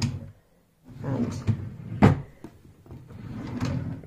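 Wooden drawers in a bedroom chest of drawers slide open and shut with several knocks and thuds close by, a voice talking quietly underneath.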